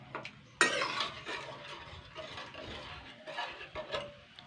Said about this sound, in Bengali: এবার আমি এটাকে কিন্তু ভালো করে নাড়াচাড়া করে নেব।